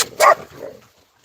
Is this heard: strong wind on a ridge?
no